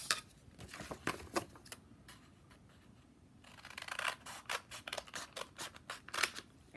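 Scissors snip through paper folded several times for a first-grade art activity, in quick rhythmic bursts of close, crisp cuts with a short pause in the middle and no talking.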